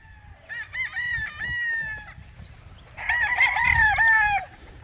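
A rooster crows twice in close succession, each call a loud, clear cock-a-doodle-doo with a rising then sustained tone, a short pause between them, over faint low background rumble.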